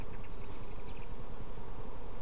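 Honey bees buzzing around an open hive during an inspection, a dense, continuous drone with a steady low hum beneath it, close and unbroken with no talk over it.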